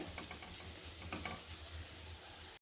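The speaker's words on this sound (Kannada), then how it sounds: "ಮಸಾಲೆನ ಹೀಗೆ ಈರುಳ್ಳಿ ಜೊತೆ ಫ್ರೈ ಮಾಡ್ಕೊಳ್ಳೋಣ" Masala and onions for a samosa filling fry on low heat, a dense steady sizzle with light stirring scrapes, close and continuous until it cuts off abruptly.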